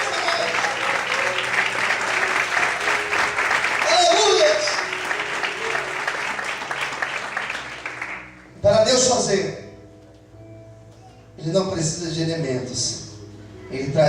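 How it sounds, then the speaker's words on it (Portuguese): Church congregation clapping loudly through an evening service, sustained applause for about eight seconds before it cuts off, followed by bursts of a voice speaking over the quieter room. "Aplauda o Senhor."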